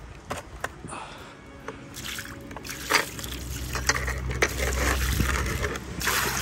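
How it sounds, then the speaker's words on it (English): Water trickles and drips into a garden fountain, with scattered splashes and small pours that build into a steadier, closer trickle toward the end. "I've been pouring all this water into this fountain"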